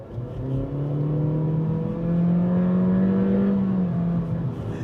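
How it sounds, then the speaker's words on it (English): A 2025 Acura ADX engine revs hard under full throttle, its CVT letting the pitch climb steadily, then dip as if shifting gears before rising again; loud, steady drone inside the cabin. "So you get the engine revs rise, so it feels a little CVT-ish, but then it emulates that gear change"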